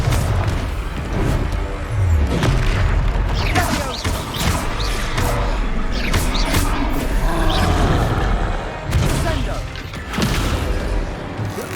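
Confringo fire spell explosions in the Hogwarts Legacy video game, loud booming blasts and crashing impacts layered over dense battle noise and game voices throughout.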